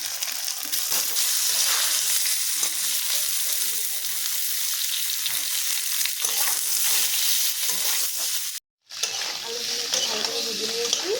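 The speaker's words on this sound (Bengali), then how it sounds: "আলুগুলোকে ভালো করে ভেজে নিয়েছি।" Potatoes fry in hot oil with bay leaf, dried red chilli and cumin for a fish curry, a steady loud sizzle with scraping stirs throughout and a brief silent break near the end.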